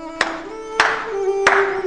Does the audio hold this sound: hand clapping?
yes